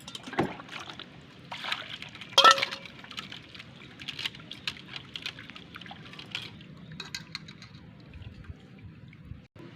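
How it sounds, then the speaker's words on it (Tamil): Raw blood being washed in water for blood fry makes soft splashing and trickling sounds with a few louder sloshes, fairly faint and close, with quiet handling noises between. "ரத்தத்தை கழுவி எடுத்துக்கணும்."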